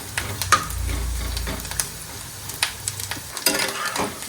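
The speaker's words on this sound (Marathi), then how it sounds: "खोबरं लाल करून घेतले खोबरं आपलं लाल झालेलं आहे अशा पद्धतीने आपण खोबरं लाल करून घ्यायचे" Grated coconut roasts in a pan until reddish-brown for tomato chutney, with scraping spoon strokes and soft sizzling in an uneven rhythm, close by and without speech.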